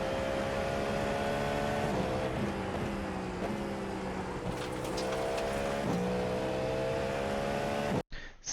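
A GTP race car in the iRacing game at Imola runs at full speed with a loud, sustained high-revving engine drone whose pitch dips and climbs through the gears and corners, then cuts off abruptly at the end.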